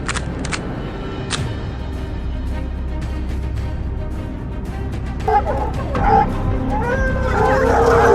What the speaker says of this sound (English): The hunting dogs, sharp and eager, waited for the command.